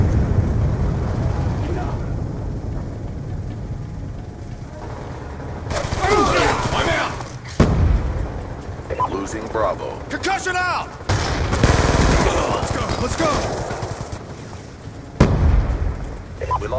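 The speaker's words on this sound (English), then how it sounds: "Hostile EMP systems detonated." Call of Duty: Black Ops 2 multiplayer match with loud bursts of gunfire and booming blasts from an EMP detonation, sharp cracks scattered through a rumbling game background, with voices heard in between.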